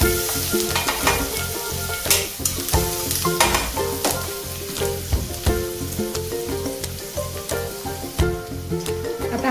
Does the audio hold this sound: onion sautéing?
yes